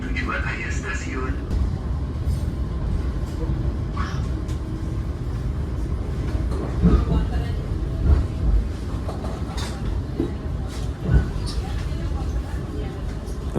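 Ciremai passenger train rolling on rails, heard from inside as a continuous low rumble with faint clattering and rattles, while people talk and murmur over the noise.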